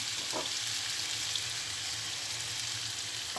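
Steady, loud sizzling of diced potatoes frying in hot oil, a constant crackling hiss with occasional light stirring sounds and no talking.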